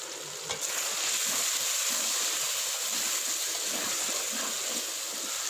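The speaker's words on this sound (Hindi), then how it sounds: "अदरक लहसुन और प्याज के साथ मज़ीद 6 से 7 मिनट चिकन का कलर चेंज होने तक अच्छी तरह भूनते रहेंगे।" Chicken pieces sizzle and fry in a pan with ginger, garlic and onion, a dense continuous hiss with faint stirring scrapes, close and steady.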